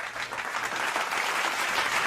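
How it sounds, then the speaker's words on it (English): An audience gives steady, dense applause that stays fairly close and even throughout, with no voices over it. "Give the brother a good round of applause, Dima, for that testimony."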